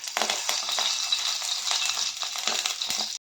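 Fenugreek seeds sizzling in hot coconut oil in a kadai, a steady bright crackle with scattered pops and light rattles close by, alone and stopping abruptly near the end.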